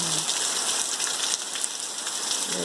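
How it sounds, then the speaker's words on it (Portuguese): Heavy rain falling over crop fields on a Brazilian country farm, a constant close hiss of countless drops that stays level throughout, with nobody talking. "Molhando as plantações."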